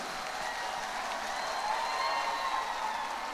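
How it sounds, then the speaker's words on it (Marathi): A crowd of parents applauds the school team at a carnival, with steady dense clapping held at an even, fairly loud level throughout. "खरंच सरांच्यासाठी, मॅडमसाठी आणि या पूर्ण टीमसाठी जोरात टाळ्या झाल्या पाहिजेत"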